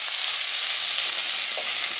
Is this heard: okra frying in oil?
yes